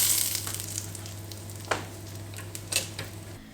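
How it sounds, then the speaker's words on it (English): Garlic and butter fry in a pan that is starting to burn, a soft steady sizzle close by with a few sharp crackles and pops near the end. "my pan is starting to burn with the garlic and the butter"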